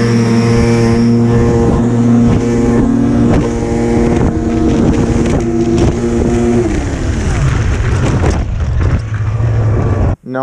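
Two 1998 Arctic Cat snowmobiles launch from a standing start, engines droning loud and close with steady harmonic whine, pitch dropping as one pulls away amid wind buffeting before an abrupt cutoff.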